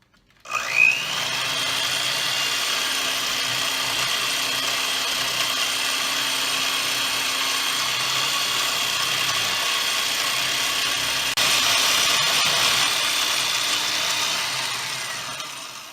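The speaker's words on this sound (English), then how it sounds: "then finally we'll address the final buffing with the beeswax" A powered buffing wheel polishes a leather sporran edge with beeswax, giving a loud, steady motor whine with a bright high hum that runs unbroken for the whole stretch, with no talking.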